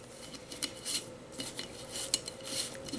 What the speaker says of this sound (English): screw on my lid